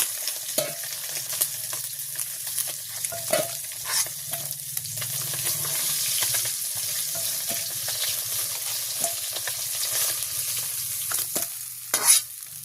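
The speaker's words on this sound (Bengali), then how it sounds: "আমি এখন সিমটা ভাজি করে নেব," Flat beans frying in oil in a pan, a steady soft sizzle running throughout while a spatula stirs and scrapes in repeated clacks and knocks, close and fairly quiet with no voices.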